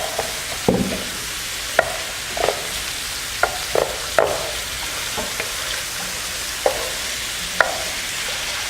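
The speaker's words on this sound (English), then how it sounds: "You see the steam is coming up and it's sizzling away." Hamburger meat for goulash crackles and sizzles in a hot pan, broken by sharp scraping clicks as it is stirred.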